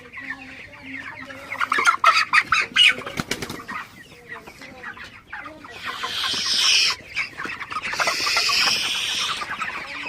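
Broiler chickens on a farm cluck and squawk close by, with bursts of loud calls and some wing flapping, then a denser, agitated clucking chorus toward the end.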